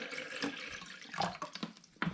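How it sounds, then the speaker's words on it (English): A litre of spring water is poured into a jug, a close, splashing, gurgling stream with uneven bursts that briefly stops near the end and then resumes. "I'm going to begin the recipe by adding a litre of spring water into this jug."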